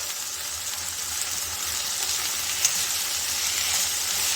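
Boiled green peas go into masala frying in a pan, giving a continuous, even sizzle close by, with a faint clink partway through.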